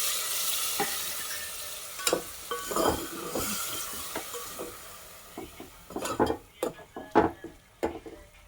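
Liver (kaleji) frying in a pan, a steady sizzle broken by scraping, knocking stirs of a spoon against the pan, several close clacks near the end.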